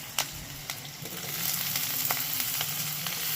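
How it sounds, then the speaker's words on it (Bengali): Potatoes frying in oil in a pan, cooked before eggplant for a Bengali katla fish dish; a continuous close sizzle with a few sharp clinks and stirs from a utensil, no talking. "আলুটা একটু ভেজে নেব"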